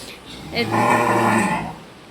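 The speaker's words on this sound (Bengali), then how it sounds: "দেখতেই পাচ্ছেন আপনারা যে আমার গরুটা কিন্তু ডাকছে" A cow in heat lets out one loud, drawn-out moo lasting about a second, close by, rising and then tapering off.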